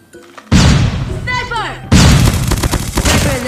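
Type 25 rifle fire in a video game bursts out in two loud, rapid volleys of booming shots separated by a short gap, with a voice talking through the pause.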